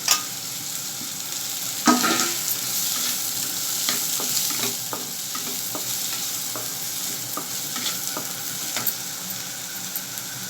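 Capsicum being stir-fried in a pan while making paneer manchurian: a steady bright sizzle runs throughout, broken by scattered clicks and scrapes of stirring, close and fairly loud with no talking.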